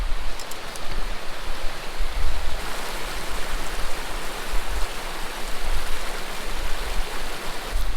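A mountain creek holding wild cutthroat trout flows in a steady, close, full rush of water that hisses evenly throughout, with no voices.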